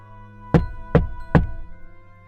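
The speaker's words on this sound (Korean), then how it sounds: "이번에는 문이 흔들릴 정도의 노크였다" Three loud, heavy knocks strike a door in slow succession, each a sharp thud with a booming low ring, the door rattling after each blow before fading into quiet.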